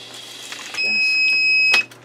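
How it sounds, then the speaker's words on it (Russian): A security camera emits a thin, steady electronic beep that holds for about a second, high-pitched and clear above faint room noise. "давайте-ка отключим нахрен первую камеру, чтобы она не пищала"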